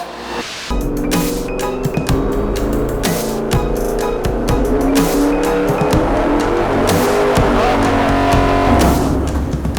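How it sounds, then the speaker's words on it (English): A supercharged engine roars hard and steadily on a dyno while its serpentine belt snaps off, a loud, dense mechanical roar with sharp squealing bursts and no voices. "The belt completely snapped off."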